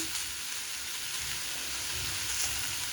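Stewed carrot, onion and beet with seasoning and sugar sizzle and hiss as they are poured into a pot of borscht with boiled meat, a steady, dense frying sound throughout with no voices.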